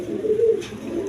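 Iranian pigeons coo in a low, throaty, rolling call, one bird close and fairly loud with no talk over it.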